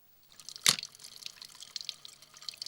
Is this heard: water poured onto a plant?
yes